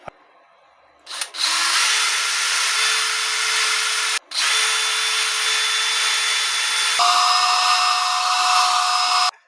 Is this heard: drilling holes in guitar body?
yes